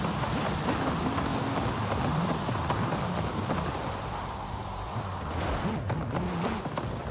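Steady rain falls in the video game Forza Horizon 5, a continuous hiss with a low rumble underneath that stays even and fairly loud throughout, with no talking.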